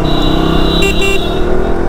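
A three-year-old motorcycle drones loudly and steadily while riding on a road, its engine hum constant with a brief higher whine near the middle.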